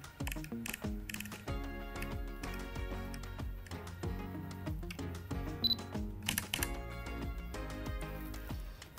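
Front control dial of a Canon EOS M6 mirrorless camera being turned, a quick series of sharp, close clicks in irregular bursts, some fast and clustered, others spaced apart.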